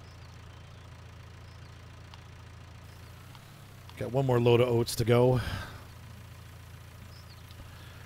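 A tractor in a farming video game, cruising at a set 16 miles an hour, gives a low, steady engine drone throughout, while someone talks briefly over it partway through.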